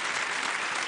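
Audience applause greeting a guest joining the host on a stage, a steady dense wash of clapping filling the moment, loud and close with no voices breaking through.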